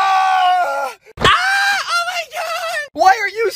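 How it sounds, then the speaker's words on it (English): A person screams from a seat where an arm got stuck, loud strained vocal bursts in several uneven pulses broken by short gaps. "Why are you screaming?"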